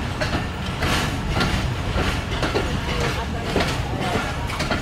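An old-coach Banglabandha Express intercity train pulls out of Natore railway station at dusk, its steady broadband rumble and rattling coach clatter continuous and close throughout.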